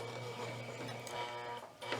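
A sewing machine stitches a placemat in a short, steady mechanical hum and rapid clatter, close and fairly quiet, with a brief dip near the end.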